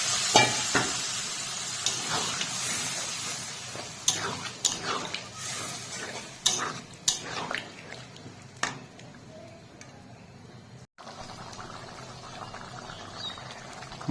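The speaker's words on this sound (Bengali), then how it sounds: "দিচ্ছি গ্রেভির জন্য পরিমাণ মতো জল" Water poured into a pan of fried spice paste for fish gravy with mustard, poppy seed, prawns and potato, giving a steady close sizzle and stir with a few sharp pan knocks before it settles into a quieter simmer.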